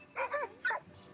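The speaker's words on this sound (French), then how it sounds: "Les chiens sont surexcités." Sled dogs, excited ahead of a long-distance sled dog race, let out a short burst of two or three close, loud barks and yips, standing alone with no talk.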